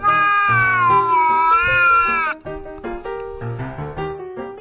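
A cat in an animated space story gives one long, loud, wavering meow, followed by a shorter stretch of cat cries mixed with other tonal sounds, close and prominent.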